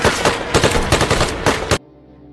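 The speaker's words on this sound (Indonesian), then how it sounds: "napi melepaskan tembakan ke arah pasukan Suriah yang akan masuk ke dalam" Rapid bursts of automatic gunfire during a prison battle as inmates shoot at Syrian forces, loud and continuous for under two seconds before cutting off abruptly.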